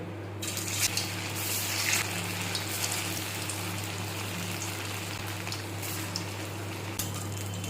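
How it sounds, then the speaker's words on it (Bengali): Soybean muitha dumplings dropped into hot white oil fry with a steady, dense crackling sizzle, joined by a few faint clinks. No one speaks over it. "সাদা তেল গরম করে নিয়েছি এখন মুইটাগুলো ছেড়ে দেবো"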